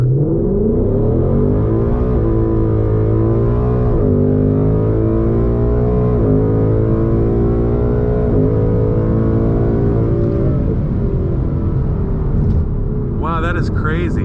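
A 2020 Mustang GT, fitted with new wheels and tires, accelerates hard with a loud close engine roar, stepping up through several gear shifts for over ten seconds before easing off.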